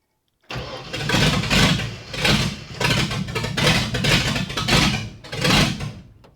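Car engine cranked after the choke is pulled, firing into a loud, rough, uneven run with repeated surges and revs in a garage with the door open.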